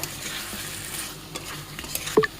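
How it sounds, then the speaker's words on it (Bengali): Fried chicken pieces being stirred with melted tomato in an oily pan, soft continuous sizzling with scraping stirs and a sharper clink of the utensil near the end. "নেড়ে চেড়ে নেব"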